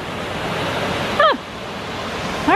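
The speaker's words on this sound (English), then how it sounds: "I hear rapids, you guys. Oh man, there's a waterfall." Rushing waterfall rapids roar as a steady, broad wash of water noise, nearby and constant, while two short bird-like chirps cut through near the middle and the end.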